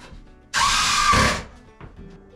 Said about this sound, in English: Then we can put screws in the end here to hold it